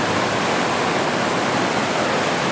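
Glacier Falls at Kokanee Creek roars as a constant, loud, broadband rush of falling water, steady and unbroken throughout with no voices.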